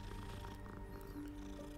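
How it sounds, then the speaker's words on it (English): A cat in the Hogwarts Legacy video game gives a faint, brief call, set low under steady game ambience and sustained musical tones. "And there's a cat."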